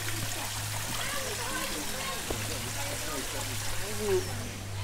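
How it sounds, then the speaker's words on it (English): Waterfall tumbling over rocks in a cool outdoor spot reached by a path, a steady broadband rush of falling water heard throughout, with people talking over it. "A waterfall."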